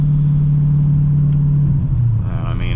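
A Turner-tuned BMW E39 540i V8 with custom exhaust drones at a steady low cruise, the engine note holding then dipping as the revs shift, loud and close from inside the car, with no talk.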